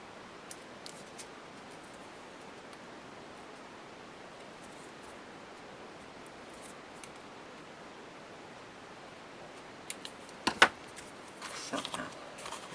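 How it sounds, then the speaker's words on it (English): Scissors cut paper corners for a mini album. Faint rustling and light crisp snips are followed by a short cluster of sharper cuts near the end, all close and quiet. "So you can maybe cut off the corners also."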